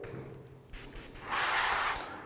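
Green spray paint hisses from a can onto a Boba Fett helmet in short bursts, then one longer steady spray, close and fairly loud with no talking.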